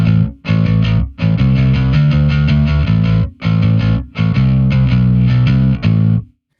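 Electric bass played through a Microtubes 900 v2 distortion pedal set to a brighter tone, loud and gritty, with repeated phrases broken by short pauses and no voices.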